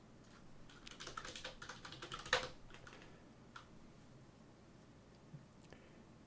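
Login credentials are tapped out on a computer keyboard, a rapid flurry of soft, close keystrokes with one sharper press, then sparse isolated clicks.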